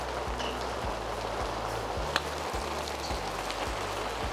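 Steady rain falls on an outdoor golf course, a continuous even hiss of drops with low rumbling underneath, filling the whole stretch with no voices.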